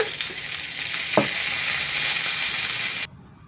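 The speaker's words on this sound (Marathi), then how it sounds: "आणि चार लसूण पाकळ्या त्याला टाकून चांगलं त्याला भाजून घ्यायचं आहे" Green chillies and garlic cloves fry in a little oil, a loud, steady sizzle close up with a brief stirring scrape, ending abruptly.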